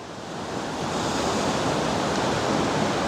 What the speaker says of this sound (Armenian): գետի ձայնն էլ լսվում է